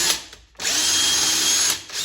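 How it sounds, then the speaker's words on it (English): A power drill drives a tap to cut threads, whirring loudly and then stopping for a moment before spinning up again into a steady high whine, close by with no talking. "stick a tap on the end of a drill and just carefully go in"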